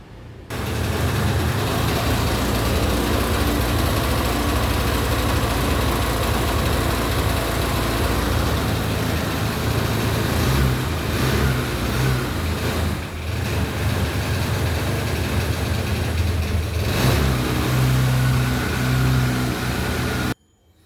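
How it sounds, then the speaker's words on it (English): A 2001 Honda Activa scooter engine runs at a steady idle to warm up, a close, even drone that holds loud and unbroken for about twenty seconds before cutting off. "before we drain out, we need to warm up the engine, for which we will start the engine for at least a minute"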